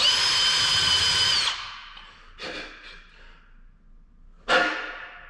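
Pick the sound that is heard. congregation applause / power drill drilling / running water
power drill drilling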